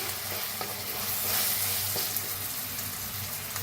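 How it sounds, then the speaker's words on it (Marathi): Onions and tomatoes frying in a pan while being stirred, a steady close sizzle with occasional scraping clicks of the spoon, no voices. "कांद्यासंग भाजून घेऊया आता छान भाजले बघा टमाटो बी"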